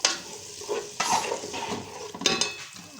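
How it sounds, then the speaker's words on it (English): Carrots, green beans and green onion fried together in a pan, giving a soft sizzle broken by scraping stirs and clattering utensil hits against the cookware. "I want to fry them together."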